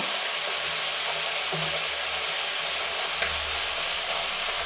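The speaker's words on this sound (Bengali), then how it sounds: "আলুগুলোকে দিয়ে দিচ্ছি আলুগুলো হালকা লাল করে ভেজে তুলে নেব" Cut potatoes frying in oil in a pan, left over from frying rohu fish, a steady moderate sizzle with faint low stirring knocks underneath.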